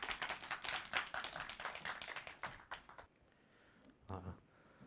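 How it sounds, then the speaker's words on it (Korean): Audience applause and clapping for a presenting team at a big data course final presentation event, dense and steady for about three seconds, then fading to a quiet room with a brief shuffle or thump near the end. "여러분 박수 부탁드립니다."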